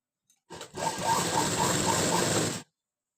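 A sewing machine runs one continuous two-second burst of stitching along folded blouse fabric, a close, steady mechanical whir that starts and stops abruptly.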